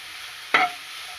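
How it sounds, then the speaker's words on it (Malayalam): Curry leaves and salt are stirred in a hot pan, giving one brief scrape and sizzle over a steady background hiss. "കറിവേപ്പില, ഉപ്പ് ഇവയെല്ലാം ഇട്ട ശേഷം ഒന്ന് നല്ലപോലെ വഴറ്റിയെടുക്കാം."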